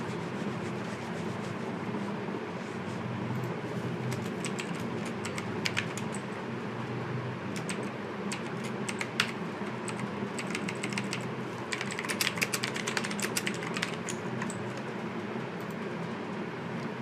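Computer keyboard typing while text is entered into a WordPress editor, irregular clusters of light key clicks over a steady low background hum, fairly faint and without speech.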